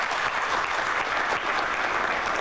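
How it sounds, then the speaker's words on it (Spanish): A crowd at a UNASUR presidents' summit in Cochabamba, Bolivia claps continuously, a dense, even wash of applause that stays loud throughout without voices standing out. "un aplauso para nuestros presidentes."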